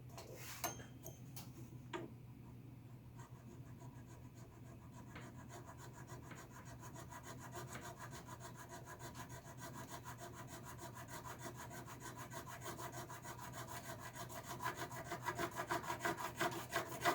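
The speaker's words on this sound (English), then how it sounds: "I'm going to file that nut until I make contact with this shim." A file rasps steadily across a guitar nut, working it down toward a metal shim beneath the string slot, a continuous close scratching that grows slightly louder toward the end, heard alone without talk.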